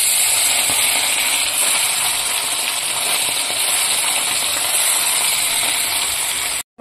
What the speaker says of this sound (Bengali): আমার মাছ ভাজা হচ্ছে